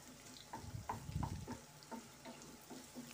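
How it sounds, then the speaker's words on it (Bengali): An egg fries in a pan with vegetables and is broken into small pieces, a soft sizzle running under repeated scraping, stirring taps of a utensil against the pan, close and fairly quiet. "ডিমটা এভাবে ছোট ছোট টুকরো করে নেব।"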